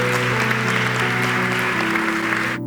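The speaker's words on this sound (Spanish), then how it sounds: "Vamos a darle un aplauso también en el nombre del Señor." A church congregation applauds together in a steady, full wash of clapping, with a low sustained musical hum underneath that cuts off at the end.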